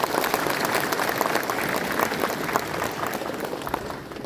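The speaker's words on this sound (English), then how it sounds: "Can we all give a big round of applause on all of our associations?" An assembled audience at an official event with a Union Minister in Nagaland gives a steady round of applause, moderately loud and continuous, tapering slightly at the end.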